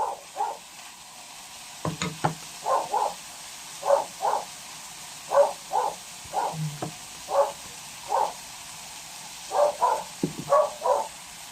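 A dog barks repeatedly at a steady, regular pace, somewhat distant, over a constant sizzling hiss of bean sprouts, carrots and green beans frying in a pan.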